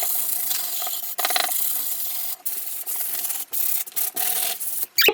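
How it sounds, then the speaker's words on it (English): Coarse sandpaper rubs back and forth over a whitewashed board in steady, close, scratchy strokes. Brief pauses break up the strokes. "you're just gonna take sandpaper and sand over it"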